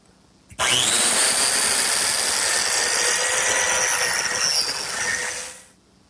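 Biscuit joiner cutting slots into wood rails and legs for a pantry table, starting with a sharp spin-up into a loud, steady high-pitched whine for about five seconds before winding down, close and alone.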